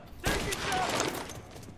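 Gunfire in Mafia Definitive Edition, a sudden loud burst of shots that rings out briefly and then fades.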